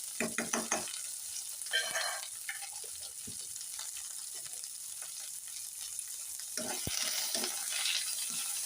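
Curry leaves and a pinch of asafoetida frying in hot oil, a continuous bright crackling sizzle with a burst of sputtering pops at the start and again near the end.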